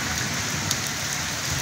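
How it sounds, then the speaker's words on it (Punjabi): Heavy rain pours steadily over Chanu Chak village in Azad Kashmir, a dense, even hiss of drops on surfaces, with one faint brief tap standing out. "ਅੱਜ ਵੀ ਬਾਰਿਸ਼ ਬਾਈ ਨੇ, ਤਾਂ ਵੱਖਰੇ ਵੱਖਰੇ ਬਾਰਿਸ਼ ਦਾ ਸਿਲਸਿਲਾ ਜਾਰੀ ਹੈ"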